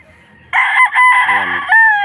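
A rooster crows loudly and close by, one long strained call lasting over a second after a quiet start.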